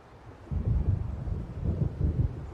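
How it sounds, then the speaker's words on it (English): Low rumbling thunder rolls in uneven waves ahead of a coming storm over the waves near Diver's Isle in the video game Alan Wake Remastered, with no voices. "It seems there's a storm coming."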